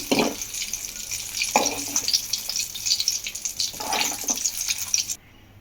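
Peanuts fry in a kadai with a steady close sizzle, broken by three louder bursts of rattling and stirring before cutting off abruptly near the end.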